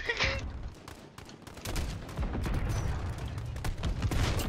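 Dense, continuous gunfire and scattered bursts from Call of Duty: Modern Warfare combat, with overlapping shots and booms coming from several directions at once, loud and sustained throughout.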